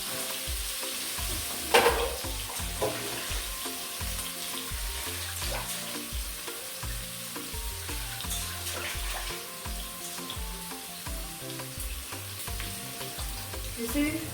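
Onions sizzle and fry steadily in a pan for fried rice, a continuous close crackle with a utensil knocking and scraping the pan now and then, one sharper clank early on, and no voices.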